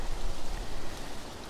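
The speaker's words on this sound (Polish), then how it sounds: "Przepraszam za wiatr" Gusty wind buffets an outdoor microphone beside a well during pumping work, a steady rough low rumble with broadband rustle filling the whole short stretch, no voices.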